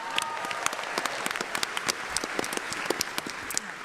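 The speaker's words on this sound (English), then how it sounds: "Let's give that another round of applause." A large convention-hall audience at a Comic Con 2016 panel for The Big Bang Theory applauds in a steady, dense wash of clapping that holds at an even level from start to finish.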